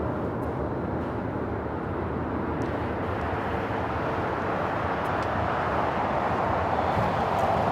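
Air China Boeing 777-300ER on short final to runway 24R at LAX, a steady broadband jet roar that holds constant and swells slightly near the end.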